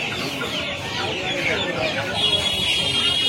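Australian chickens at a busy hen market cluck steadily and fairly close, with a higher bird call rising toward the end, while people talk and the market murmurs around them.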